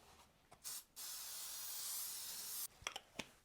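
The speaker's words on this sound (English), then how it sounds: "I'm going to spray my dish with non-stick spray." A long continuous hiss of non-stick cooking spray onto a baking dish, preceded by a short burst, followed by a few light clicks and taps of handling.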